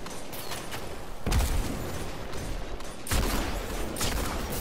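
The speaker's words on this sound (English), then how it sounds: "I have a lot of sniper ammo, so I'm just going to shoot it because I do not want to die." Sniper rifle gunfire in the video game Destiny 2, two heavy booming shots about two seconds apart over a dense, noisy game background.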